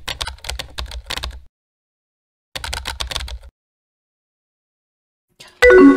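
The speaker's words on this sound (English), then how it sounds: "Just the old typing sounds too." Keyboard typing from the game Emily is Away comes in quick clattering bursts of keystrokes, two runs separated by a silent gap, close and crisp, with a brief tonal chime at the end.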